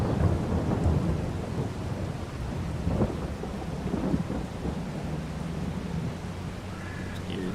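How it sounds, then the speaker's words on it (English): Rain and rolling thunder in Farming Simulator 25: a continuous hiss of rainfall with deep low rumbles swelling and fading, steady and moderately loud throughout. "We'll fast forward till it stops raining."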